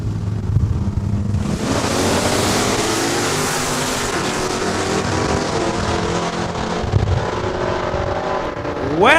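A Mustang and a 1976 Duster launch side by side at Saskatchewan International Raceway in Saskatoon, a roaring burst of drag race engines that holds loud and steady, rising again at the end.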